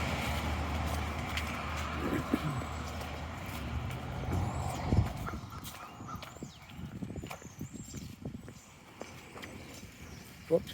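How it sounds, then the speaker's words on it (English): A car rolls past on a leafy suburban street during an autumn morning walk, its engine and tire rumble loud at first, then fading away as fainter traffic and outdoor ambience remain. "Whoops, we'll let this car go."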